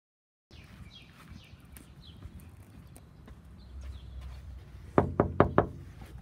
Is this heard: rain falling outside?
no